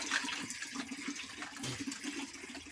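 Water poured into a pan of crab curry, a faint continuous splashing gush over low sizzling, close by, with no voices.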